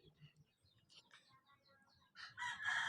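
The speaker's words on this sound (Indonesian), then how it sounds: "Dan di seberang sana ada suara ayam jago." A rooster crows faintly from somewhere off in the distance across an outdoor setting, rising near the end after a stretch of quiet ambient sound.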